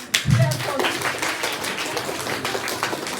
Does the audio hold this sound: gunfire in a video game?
no